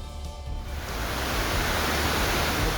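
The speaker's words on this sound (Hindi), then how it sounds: "जहां बादल फटा वहां ऐसे सैलाब बहने लगा जैसे कोई झरना बह रहा हो" Flash flood torrent rushing after a cloudburst in Mandi, Himachal, a dense roaring wash of water that swells in within the first second and stays loud and steady like a waterfall, with no voices.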